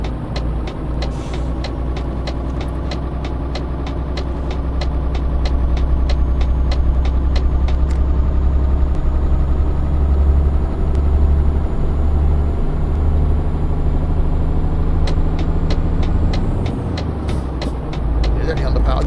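An underpowered truck engine in Euro Truck Simulator 2 drones steadily and loudly throughout, a deep low rumble that swells in the middle, with regular ticking clicks layered on top near the start and end.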